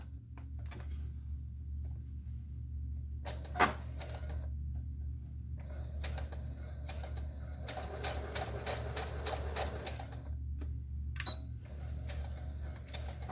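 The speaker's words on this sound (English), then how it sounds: "I'm going to sew the line that separates A1 and A2, so right there. I'm just going to go and sew that real fast." Home sewing machine stitching a tiny paper-pieced log cabin quilt block with a short stitch length, a quiet steady mechanical whir in bursts with a few ticks and clicks over a low hum.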